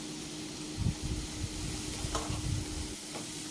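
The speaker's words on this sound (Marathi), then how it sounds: "चमचा वर खाली करून मसाला पूर्ण मिक्स करून घ्यायचा आहे" A spoon stirs cluster beans into frying masala, with a steady low sizzle beneath a few soft scraping stirs spaced across a few seconds, close and moderately quiet.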